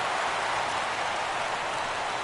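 Steady rain hisses evenly through a stadium in the baseball video game MLB The Show 17, a constant dense wash with no voices.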